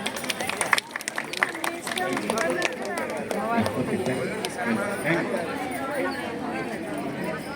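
An audience at a Lalitha devotional koti nama parayanam gathering in Proddatur claps in a brief burst of scattered applause that quickly gives way to crowd chatter and talking.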